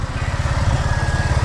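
A motorcycle engine runs close by with a rapid, pulsing low thrum, holding a fairly steady idle-like rhythm.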